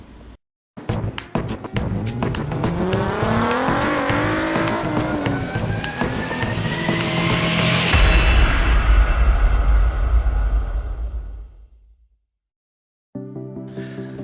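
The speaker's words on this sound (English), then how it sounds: "I took my super rare 156 V6 for a drive" A rare Alfa Romeo 156 V6 revs hard on Devon roads, its engine note rising sharply through the gears up to a loud scream, then backing off and fading, before a short idle at the end.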